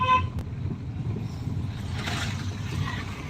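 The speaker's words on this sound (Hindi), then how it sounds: "राकेश भैया गाड़ी चला रहे हैं।" A car being driven gives off a steady low engine and road rumble heard from inside the vehicle, with a short horn-like toot at the start.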